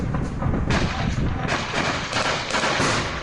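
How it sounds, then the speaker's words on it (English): Soldiers lay down cover fire on the Bakhmut front, a dense, close barrage of overlapping gunshots and heavier booms cracking out in rapid succession without pause. "Lay down cover fire."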